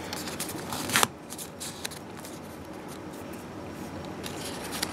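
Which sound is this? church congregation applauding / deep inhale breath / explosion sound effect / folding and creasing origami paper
folding and creasing origami paper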